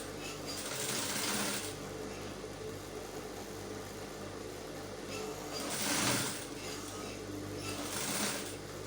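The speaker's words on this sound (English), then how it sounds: "with that now I can sew using it as the guide. So I'll sew this way." A sewing machine stitches a fly zipper, running in steady bursts near the mic with a continuous motor hum and louder surges of needle chatter, without talk over it.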